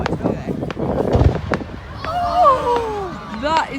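Fireworks crackle and pop in a dense burst on Bonfire Night, followed by whistling, rising shrieks of rockets, with excited voices of onlookers talking and a voice mixed in.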